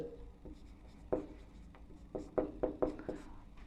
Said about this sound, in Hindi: तो लिखेंगे इसका हल।